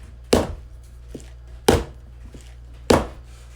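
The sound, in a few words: tapping pan of pandan sponge cake batter before baking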